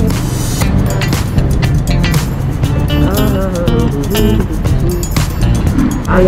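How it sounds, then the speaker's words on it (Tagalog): Busy street traffic in Tanauan, with a steady mix of passing cars and engines, a horn-like tonal sweep and scattered road noise, heard continuously at close range. "medyo matraffic-traffic sa Tanawan ngayon"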